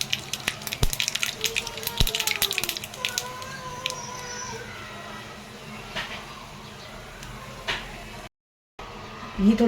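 Tadka tempering for dal sizzling in a hot pan at home, a loud crackle and spatter that settles into a steady hiss, close up, with someone talking over it.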